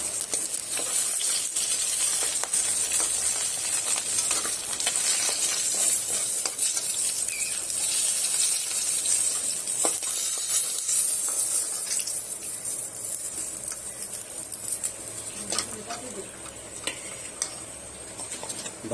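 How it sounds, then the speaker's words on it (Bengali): Fish pieces frying in hot oil in a pan, a continuous close crackling sizzle with intermittent scrapes and clicks of a utensil as pieces are turned and lifted. "মাছগুলো আমার ভাজা হয়ে গেছে,"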